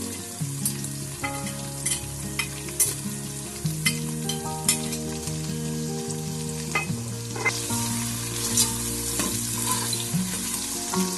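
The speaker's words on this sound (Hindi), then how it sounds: "और इसको भी थोड़ा सा भून लेंगे इसके अंदर" Spices frying in a pan for a turnip curry, a steady close sizzle with scattered stirring clicks throughout, beneath background music.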